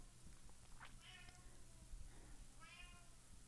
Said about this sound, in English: My cat's outside. He doesn't like it when I close the door.